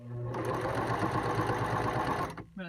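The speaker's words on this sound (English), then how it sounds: "I'm going to put the needle in the fabric, lift this up, put the fold underneath here so I can have a nice smooth stitch" Sewing machine stitching along a fold of fabric for a face mask, a fast steady mechanical whir running for about two seconds, then stopping abruptly with a brief voice at the very end.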